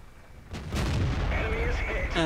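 A tank cannon in a video game fires with a sudden deep boom that rolls into a sustained roar and rumble of battle, with a voice faintly underneath.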